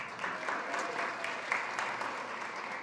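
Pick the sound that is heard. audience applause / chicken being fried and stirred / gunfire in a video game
audience applause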